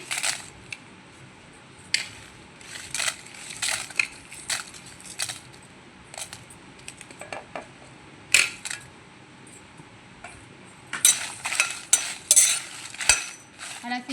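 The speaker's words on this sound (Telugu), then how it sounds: "ఆయిల్ వేసాను ఇప్పుడు ఎండుమిర్చి వేద్దాం" Dried red chillies fry in hot oil in a pan, producing a low continuous sizzle broken by frequent sharp clicks and scrapes of a utensil against the pan, close up and with no talking.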